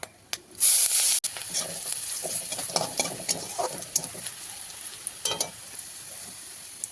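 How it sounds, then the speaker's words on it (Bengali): Dried chillies, bay leaf, whole spices and chopped garlic hit hot oil in a wok with a sharp burst, then keep up a steady crackling sizzle and hiss with light stirring scrapes close by. "এবার কড়াইতে দেব শুকনো লঙ্কা, তেজপাতা, ফোড়ন, তারপরে দেব রসুন কুচি"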